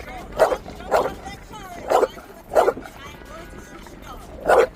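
Dog barking in five sharp separate barks, a couple per second, fairly close and moderately loud, with voices talking in the background.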